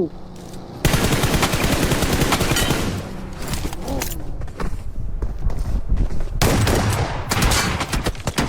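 Dense automatic gunfire from a PUBG Mobile match rattles nearly nonstop at close range, loud and sustained, with brief gaps and a few sharper single shots between bursts.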